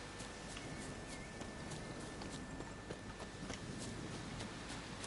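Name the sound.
horse hooves trotting in video game Witcher 3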